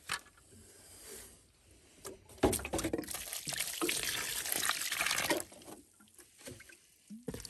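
Water is poured onto seedling growing substrate, a loud gushing splash lasting about three seconds, preceded and followed by quieter handling noises and trickles.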